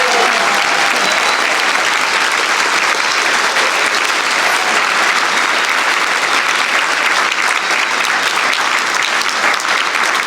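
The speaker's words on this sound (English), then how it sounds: "So please join me in giving a warm round of applause to Ms. Strunc." Loud, sustained applause from an audience at a St Thomas school winter concert, dense, steady clapping filling the room with no pauses for about ten seconds.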